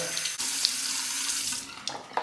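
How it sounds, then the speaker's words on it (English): Cold water runs from a bathroom sink tap for a rinse after shaving, a steady close hiss and splash that briefly dips and then returns. "A final rinse with cold water."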